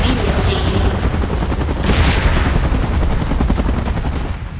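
Helicopter in PUBG Mobile's Godzilla and Kong mode, a loud, dense, continuous rotor roar with rapid chopping texture and rumbling noise throughout, no speech over it.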